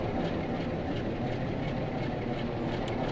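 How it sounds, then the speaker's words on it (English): Locomotive diesel engines idle in Train Sim World 5, including class 47 and 87 units, as a steady, dense low rumble that fills the whole stretch with no change in level. "So I can hear some other engines around the back."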